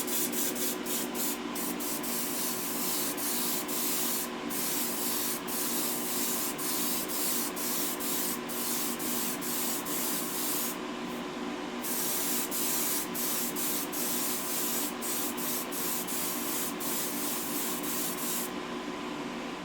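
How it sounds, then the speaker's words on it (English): Aerosol spray paint can hissing out cosmic sparkle paint onto a Hot Wheels Econoline truck, a steady continuous spray broken by brief pauses and short bursts, close and alone without talk. "I'll spray the cosmic sparkle quick here."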